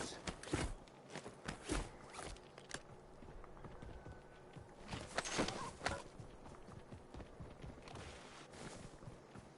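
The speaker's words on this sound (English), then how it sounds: "I can literally hear my own boots." A player's own boots thudding on the ground in the Warzone battle royale shooter: soft, irregular footsteps with a few sharper, louder steps, quiet and close, over faint background ambience.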